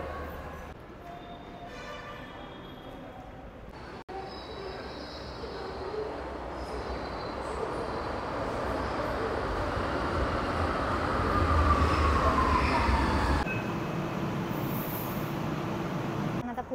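A metro train rumbles steadily at the Pune railway station metro platform, a broad continuous roar that swells toward the middle, with a thin wheel squeal rising briefly near the end.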